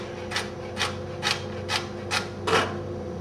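A knife rocks through carrot strips on a cutting board while dicing them into brunoise, giving six evenly spaced crisp chopping strikes about half a second apart, close and clear over a steady low hum.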